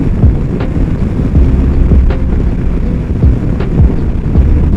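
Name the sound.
wind blowing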